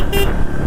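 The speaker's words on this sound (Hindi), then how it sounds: "इसका जो हॉर्न का साउंड है वो मैं आप लोगों को अभी सुना देता हूँ।" Horn of a Bajaj Pulsar N160 motorcycle, a single short, moderately loud beep near the start, followed by quiet idle background.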